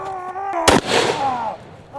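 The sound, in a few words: Doomslayer Super Shotgun firing at imps in a video game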